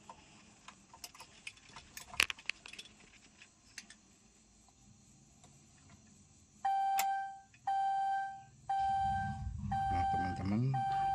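A car's warning chime sounds repeatedly as the key goes in, steady pulsing beeps starting partway through after scattered clicks and handling noises, during an old battery repair.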